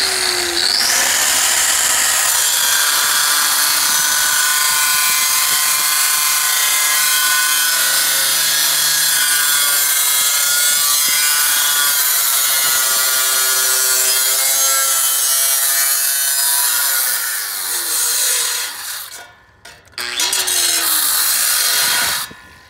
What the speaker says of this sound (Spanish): Ahorita voy a cortar.